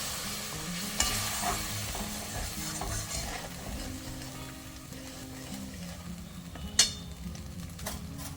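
Spice paste being stir-fried (kosha) in a pan for vegetarian potato dum, a steady quiet sizzle with scraping stirs, a spatula knock near the start and a sharper clatter near the end, no talk.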